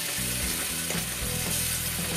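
Garam masala powder gets stirred into garlic, ginger and onion frying in a pan for rajma, a loud close sizzle broken by scraping stir strokes, with no talking.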